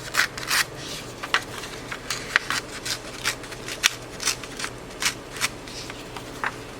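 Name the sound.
paper being torn off the top and bottom of a card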